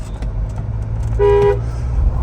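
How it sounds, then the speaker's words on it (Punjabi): A single short car horn honk sounds over the low rumble of passing traffic on a road toward Ropar, Punjab. "ਹੌਰਨ ਜਾ ਮਾਰਦੇ ਆ"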